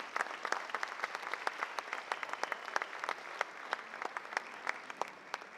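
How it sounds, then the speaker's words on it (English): An evening audience claps for the judges, a fairly light, distant patter of individual hand claps with distinct sharp strikes repeating steadily. "a big round of applause for all of our judges this evening"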